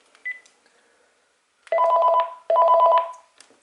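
Intercom tones from a Panasonic KX-TG5243 cordless phone handset calling its base unit: a short beep, then two long, loud buzzing tone bursts separated by a brief gap, clear and close.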